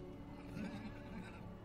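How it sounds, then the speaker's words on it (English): Horses whinny in an anime battle scene during season 4 of Overlord, a loud neigh rising over a dense, rumbling soundtrack with hoofbeats and ambient noise. "Nice horses."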